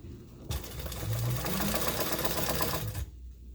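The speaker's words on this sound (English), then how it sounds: "Ready to sew across the top." A sewing machine stitches across the top of a fabric back band in one continuous run of about two and a half seconds, loud and close, whirring steadily before stopping abruptly.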